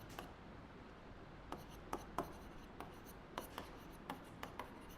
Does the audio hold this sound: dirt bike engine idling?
no